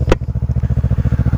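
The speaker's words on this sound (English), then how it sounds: "slip-on exhaust system on the Yamaha R3" A Yamaha R3 motorcycle fitted with an M4 slip-on exhaust idles close by, a loud, steady, rapid throbbing pulse after a sharp opening click.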